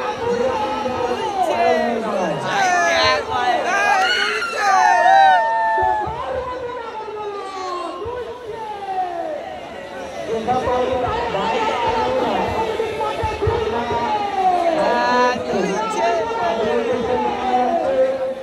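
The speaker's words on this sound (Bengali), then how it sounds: "রাস্তায় প্রচুর পরিমাণে ভিড় জমে গেছে।" A large, dense crowd chattering on a festival road, continuous babble of many voices close and far with shouts rising through it, steady and loud throughout.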